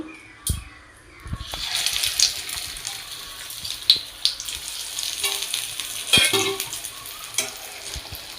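Rui fish cutlets slide into hot oil on a gently lowered flame. A quiet start gives way, after about a second, to steady close-up sizzling and bubbling, punctuated by a few light clinks of a utensil.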